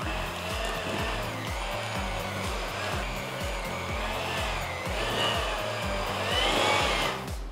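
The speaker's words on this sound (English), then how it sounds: "Okay, let's mix. Using our hand mixer." Electric hand mixer beating cream cheese with granulated sugar in a bowl, a loud steady motor whir with a rhythmic low churning pulse, running continuously and alone.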